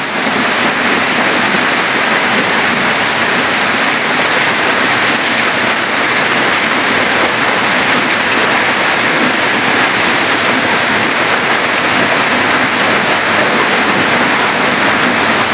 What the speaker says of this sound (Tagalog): mabagang ulan.